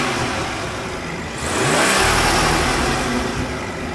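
A 2016 BMW 340i's B58 3-liter twin-scroll single-turbo inline-six revs up from idle, a smooth steady hum swelling into a louder, sustained rev heard close by with no talking.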